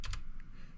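A couple of quick, soft keyboard keystrokes tap near the start, followed by a faint third click, quiet and close in an otherwise still room.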